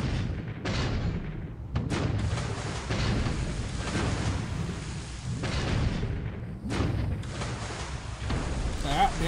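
Enemy gunfire in a WWII Pacific naval strategy video game set in 1942, heavy booming bursts and rumbling blasts repeating across the clip, loud and continuous with dense low rumble throughout.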